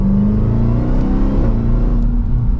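A supercharged V8 in a 2023 Dodge Durango SRT Hellcat SUV rumbles steadily from inside the cabin, its pitch climbing as it revs under load, loud and continuous with no talk.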